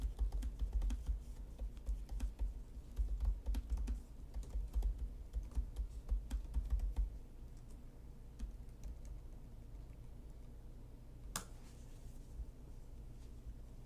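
Rapid clicking of a computer keyboard being typed on, close and fairly quiet, in bursts that thin out into sparser taps halfway through, with one sharp click near the end.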